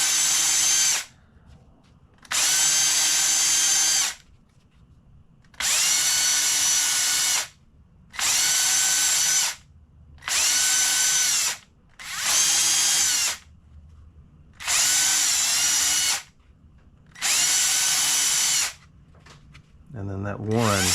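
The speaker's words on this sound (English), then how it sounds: "Brand new drill bit to clean all the pieces out ever so gently." A brand new drill bit cleaning debris out of parts on a 1951 Cletrac Oliver crawler dozer, eight loud whirring bursts of about two seconds each with quiet gaps between, close to the microphone.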